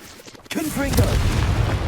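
Casting the Confringo blasting spell in Hogwarts Legacy sets off an abrupt explosive boom that swells into a steady, roaring, crackling fiery rumble, loud and close.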